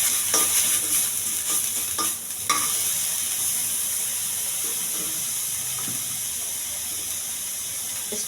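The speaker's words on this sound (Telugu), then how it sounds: "ఈ అల్లం వెల్లుల్లి పేస్ట్ పచ్చివాసన పోయే వరకు ఎగుస్తాను." Ginger garlic paste fries in oil with cumin in a pan, giving a steady bright hiss with a few early spatula taps and scrapes, then a continuous even sizzle with no one talking.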